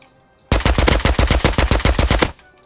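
Fully automatic AK rifle fire in the survival game Rust: a single loud, close burst of about fifteen rapid, evenly spaced shots lasting nearly two seconds, then an abrupt stop.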